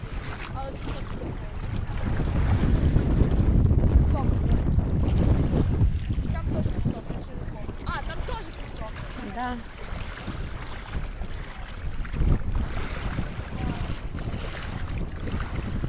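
Strong mountain wind gusting across the microphone, a steady loud roar that swells and eases, with people talking now and then beneath it.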